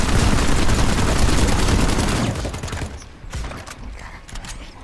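Dense automatic gunfire in the PlanetSide 2 video game rattles loud and fast for about two seconds, then breaks into scattered single shots and mechanical clatter that get quieter toward the end.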